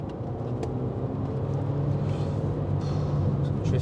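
A 2024 Dacia Duster accelerating hard, a steady engine drone and road rumble building slightly in loudness, heard from inside the car with no talk.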